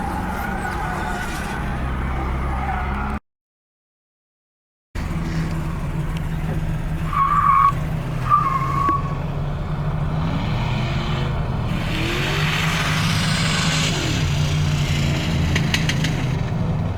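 A car drifts on a wet road in the rain at a drift event, with engine drone, splashing tire noise and brief squeals, interrupted by a short gap of silence, and a voice briefly in the mix.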